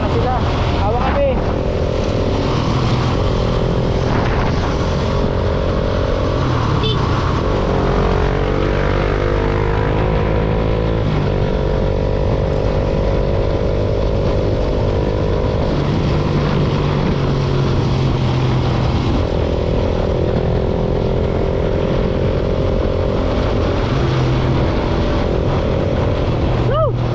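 Boat engines roar continuously at full throttle for the whole stretch, loud and steady with shifting pitch as they rev, while someone talks excitedly over them.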